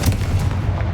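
The Confringo blast spell going off in Hogwarts Legacy, a single deep, booming burst that rolls out and stays loud across the whole moment.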